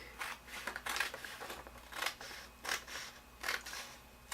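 Scissors snip through paper while trimming away black areas for a glue book art journal, a series of crisp cuts spaced about once a second, close and clear with no talking.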